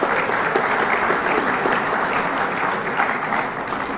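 An audience at a political speech applauds in a dense, continuous wash of clapping, steady and fairly loud before easing slightly at the close.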